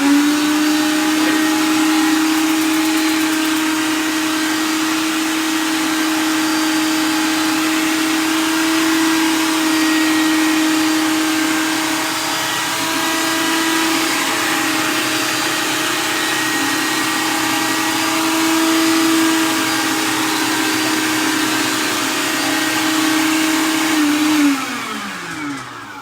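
A kitchen blender grinds a green falafel mixture for a Lebanese dish, a loud steady whirring drone with a constant motor pitch that runs throughout before winding down at the end.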